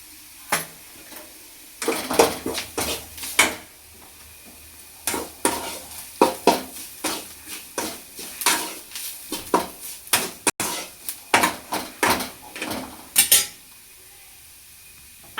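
A spoon scraping and clattering against a pan while stirring onion chutney with onion-garlic masala, in irregular bursts of metallic scrapes with quiet gaps, close and fairly loud, with no talking.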